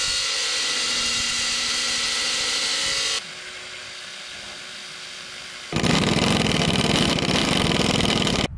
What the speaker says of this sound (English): Now I need to drill holes in the rock to drive in 1/2 inch rebar.